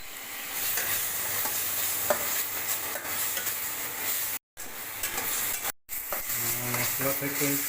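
Ground spice paste and pureed tomato fry in a pan while being stirred, a moderate sizzle broken by scraping spoon strokes, two brief cuts to silence, and a few clinks near the end.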